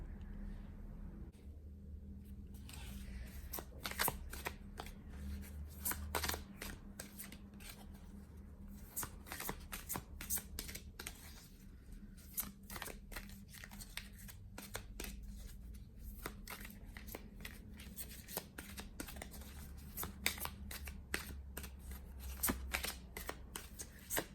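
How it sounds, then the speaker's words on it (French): Tarot cards are shuffled by hand in a quiet room, giving repeated soft riffling and slapping bursts through the clip, with a faint low hum underneath. "je vais vous tirer quand même une carte"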